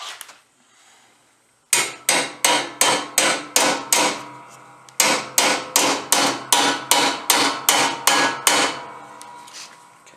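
A hammer strikes metal to bend over a carriage bolt on a Protero bagger project, two loud, steady runs of about seven ringing metallic blows each with a short pause between, close and with no talking.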